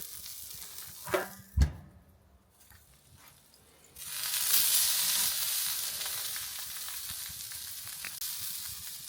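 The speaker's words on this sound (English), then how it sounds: "Let's get that sear happening." A top sirloin picanha placed in a hot pan to sear. A couple of sharp handling clatters and quiet come first, then a strong, close, steady sizzle swells and continues to the end.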